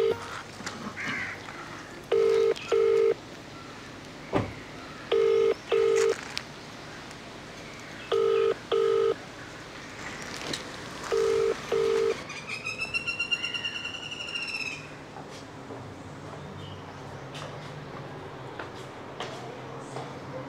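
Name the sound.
telephone dialing tones while phoning the MLA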